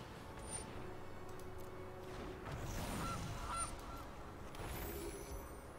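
A cartoonish goose honk from the MTG Arena card game, sounding a few times over a steady, busy bed of game audio and background noise, with no one talking.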